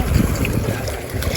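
Wind gusting over a lake while out boating, a steady low rumble of wind buffeting the microphone with faint lapping water beneath, continuous and fairly loud throughout.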